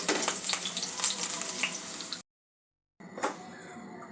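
Potatoes fry in oil in a pan over a low-to-medium gas flame, giving a steady close sizzle that cuts out briefly and then resumes.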